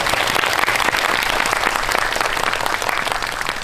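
An audience at a Korean film talk event breaks into dense, loud applause, rapid overlapping claps sustained throughout, fading slightly near the end.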